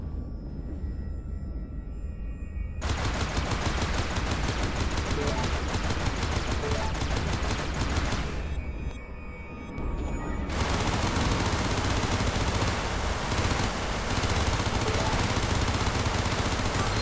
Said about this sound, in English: There is a mineable asteroid nearby. Shoot at it to extract fuel.